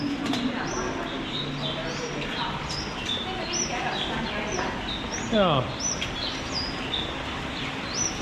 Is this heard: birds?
yes